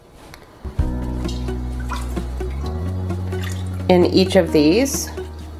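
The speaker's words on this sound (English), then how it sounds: "now I'm just going to take this ladle and just fill this to the 1 cup line" Chicken bone broth ladled into containers, with liquid pouring and dripping against a steady low hum, and a person talking over it.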